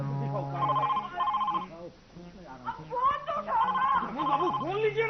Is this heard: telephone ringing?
yes